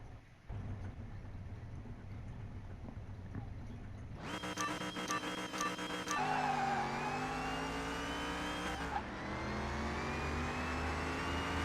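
In the CMS-21 video game, an engine howls as a car launches in an eighth-mile drag race against a BMW M1 Procar, rising hard through the gears with a brief shift in the middle.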